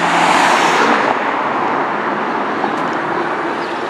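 Road traffic drones past outside a building site on a French street, a car swooshing by loudly at first and then fading into a steady distant roadway rumble, with no talking.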